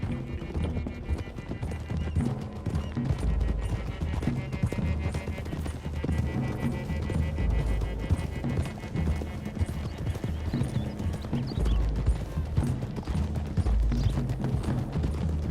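Hooves clip-clop in a fast, steady gallop, several horses close together in Red Dead Redemption 2, with occasional whinnies over a dense rumbling background.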